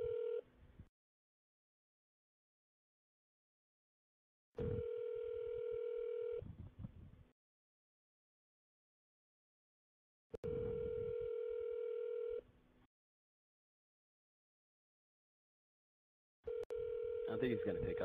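A phone call ringing out on the line: four long electronic ring tones separated by silence, each lasting about two to three seconds, with muffled low rumbles under some of them.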